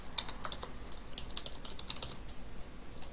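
Quiet, steady typing on a computer keyboard enters an email address, a run of light, rapid key clicks with no voices.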